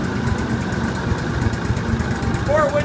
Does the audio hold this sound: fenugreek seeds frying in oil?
no